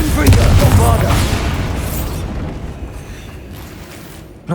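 Repeated Bombarda blasting-spell explosions from Hogwarts Legacy, loud booming bursts that start strong and rumble away over several seconds, with a fresh sharp burst at the very end.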